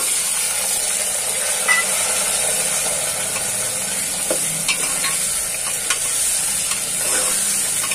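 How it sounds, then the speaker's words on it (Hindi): Finely chopped potatoes sizzle steadily in a pan while being stirred, a continuous bright frying hiss with occasional soft scrapes and clicks from the spoon, close and moderately loud with no talk. "अब हम इसमें डालेंगे ये बारीक करते हुए आलू"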